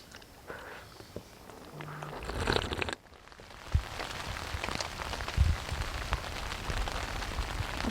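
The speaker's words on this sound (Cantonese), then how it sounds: "呢啲雨聲揾住咗。" Rain patters steadily on surfaces at a seaside campsite in Sai Kung, Hong Kong, a dense close drizzle with a few louder drips and faint rustling, no one speaking.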